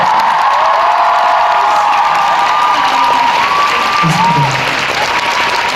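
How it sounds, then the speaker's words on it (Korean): Concert audience applause and cheering at a ballad and musical countdown concert, dense sustained clapping with shrill whoops and shouts rising above it throughout. "박수 한번"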